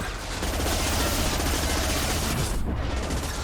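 Dense gunfire from Mass Effect 2 combat, a rapid burst of loud shots and impacts that continues almost unbroken for several seconds.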